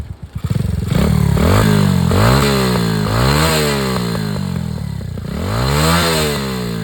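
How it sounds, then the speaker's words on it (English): A Trail Master TM23 trail motorcycle runs close by in neutral, its engine loud and steady with a buzzing, slightly wavering note and mechanical rattle throughout, with no one talking. "You let the bike idle for a bit."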